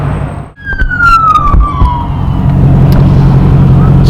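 A state trooper's police siren wails past on a highway, its falling pitch sweeping down as the car goes by, loud over the steady road roar and engine rumble of a car driving along, with no talking.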